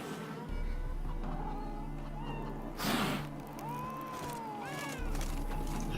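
A cat in The Witcher 3 video game meows a few times, short, fairly quiet calls over a soft game ambience with a brief louder rustle in between.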